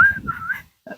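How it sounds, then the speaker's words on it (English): A person whistling a short wavering tune outdoors near a vintage RV, a few sliding notes over about half a second, then a pause and a brief final note, close and clear. "You can too whistle."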